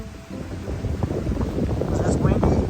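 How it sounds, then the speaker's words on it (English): Gusty wind at a campsite buffeting the microphone with low rumbling roar, rising and falling in bursts, close and fairly loud. "It's windy and it's cool."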